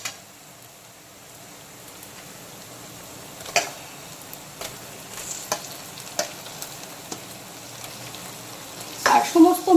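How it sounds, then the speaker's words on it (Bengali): Marinated chicken goes into a kadai with ginger, garlic, tomato and dried chilli for a village-style country chicken curry, a soft steady sizzle with scattered stirring clicks and taps that grow louder toward the end. "তো এখন আমি ম্যারিনেটেড চিকেনটাকে দিয়ে দেবো কড়াইতে।"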